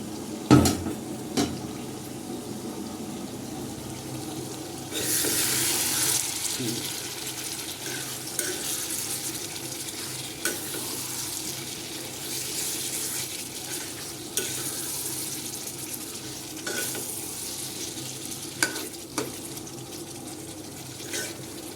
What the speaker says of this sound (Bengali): এখন আমি ঢাকনাটা খুলে তারপরে একটু নেড়ে চেড়ে আবার ঢেকে দিব আর কি।